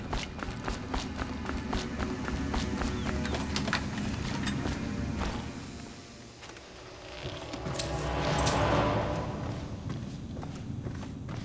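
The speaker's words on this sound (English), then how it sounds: "I got some pretty loud footsteps if I'm not crouched." Player character's footsteps in the stealth game Dishonored, walking uncrouched across hard surfaces in a rapid, fairly loud series of close steps, pausing briefly midway before resuming.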